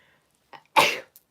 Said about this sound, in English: there goes the sneeze